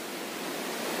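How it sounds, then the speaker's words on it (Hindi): Water from the Jharna Mata waterfall rushes in a dense, steady hiss, continuous and fairly faint, with no voices over it. "पीछे उसी झरने का ये पानी"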